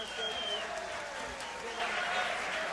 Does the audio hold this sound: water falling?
no